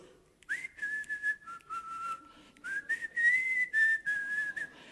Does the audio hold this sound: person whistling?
yes